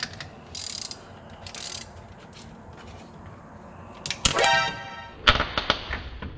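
Unbolting a part on a $600 Mustang being prepped for twin turbos: quiet shop background, then a burst of rapid ratcheting clicks from a close wrench, followed by a few sharp metallic clacks and clatters.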